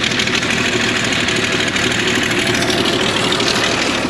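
An International 1466 tractor engine idles steadily after a cold start, a loud, close, continuous rumble with a dense mechanical clatter and no voices over it.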